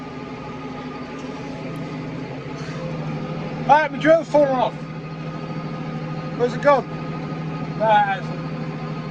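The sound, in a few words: tractor engine running in a field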